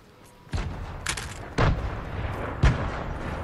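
Gunfire close by in the Fortnite video game: a handful of sharp, loud shots at uneven intervals, each with a booming low-end thump and short tail, over a low background.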